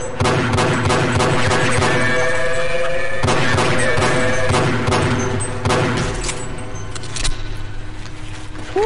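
Shotgun blasts in the Half-Life: Echoes video game, sharp broadband bursts repeating over a dense, loud game soundscape with rumbling ambience and scattered clanks.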